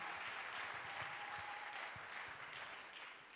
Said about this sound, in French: Let's clap for Jesus Christ.